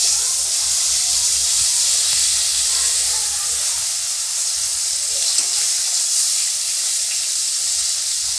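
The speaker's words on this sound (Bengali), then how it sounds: "আর এখানে আমি এখনও বেগুন ভাজছি, একটা বড় বেগুন" A large eggplant frying in a pan on the stove sends up a continuous, fairly loud hiss of steam and sizzle that stays steady from start to finish, with no speech over it.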